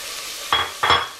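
Chopped vegetables, including peas, capsicum and carrot added to broccoli, sizzle and are stirred in a pan, with two distinct bursts of hissing and scraping close up, and no voices.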